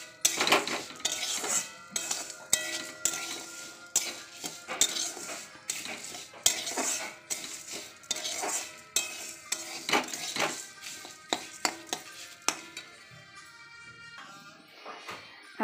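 A utensil scrapes and clinks repeatedly against a pan as mihidana fries in ghee, with irregular, close metallic taps and stirs over a faint sizzle.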